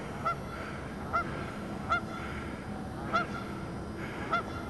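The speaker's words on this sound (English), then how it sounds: "And there's the geese." Geese honk in a hunting area beside a bayou, five short calls at roughly even intervals, moderately distant and fairly faint over a steady background hiss.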